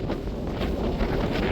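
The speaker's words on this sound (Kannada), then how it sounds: "ಸಕ್ಕತ್ ಗಾಳಿ ಹೊಡಿತೈತೆ ಮಾತ್ರ." Strong wind batters the microphone on a hilltop, a loud, continuous rumbling buffet with gusty swells and no talk.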